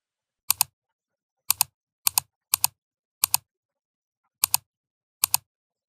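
Sharp double clicks from a computer mouse or keyboard come seven times at irregular intervals, close and isolated against otherwise total silence.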